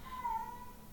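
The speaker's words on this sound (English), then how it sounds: "That's my cat." A house cat gives a single drawn-out, complaining meow late at night, fairly faint and steady, heard alone over a low background hum.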